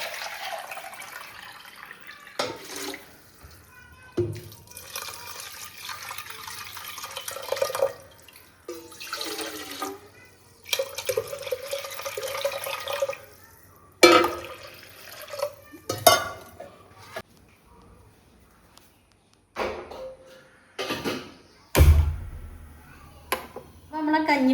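Water poured into a clay pot holding rice and fenugreek, heard as intermittent splashing and trickling bursts with occasional clinks of the pot, separated by short quiet gaps.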